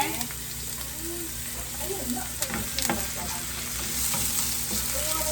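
Ginger and onion stir-fried in a pan for a seafood dish, a steady close sizzle with scraping stirs and occasional clatters running throughout.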